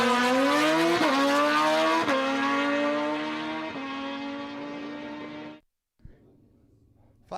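A drag racing motorcycle doing a burnout in the burnout box at a dragway, its engine screaming at high revs with sharp gear-like pitch jumps, then cutting off abruptly followed by a brief thud and quiet.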